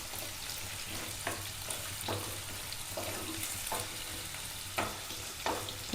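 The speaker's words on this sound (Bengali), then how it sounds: "এই জন্য আমি আলুটা একটু ভালো করে ভেজে নেব।" Potato pieces fry in a pan of oil for a Bengali posto dish, a soft continuous sizzle with periodic scraping stirs, quiet and close.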